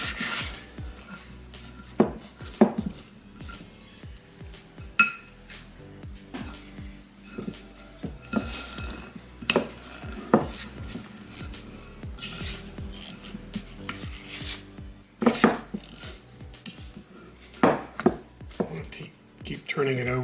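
Sunflower seed bread dough, made with darker flour, is turned over in a bowl, giving soft scraping and rubbing strokes with sharp intermittent knocks and clicks, close and moderately quiet with no talking.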